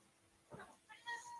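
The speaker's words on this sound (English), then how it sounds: "my cat wants to be a streamer, and that's why he's meowing all the time" A house cat gives two short, faint meows in quick succession, the second higher and more drawn out, indoors and quiet.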